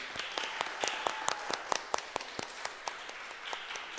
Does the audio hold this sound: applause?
yes